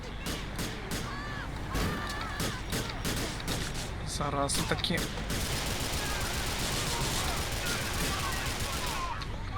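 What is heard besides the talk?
gunfire in a video game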